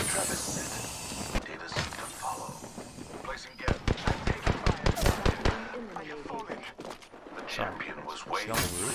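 Automatic gunfire in the Apex Legends video game, a quick burst of a dozen or so loud shots in the middle, surrounded by busy game noise and effects.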